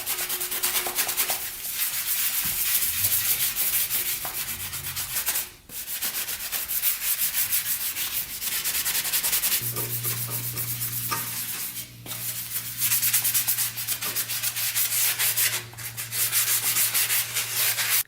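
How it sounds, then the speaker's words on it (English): Sandpaper scrubs steadily against the rusty exhaust pipe of a Kawasaki KX125 dirt bike, a loud continuous rasping with brief pauses and a low steady hum running underneath. "using a little sandpaper, let's sand off this pipe here"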